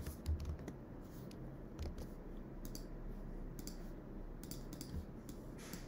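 Quiet typing on a computer keyboard, with scattered soft key clicks and taps at an irregular pace over a faint background.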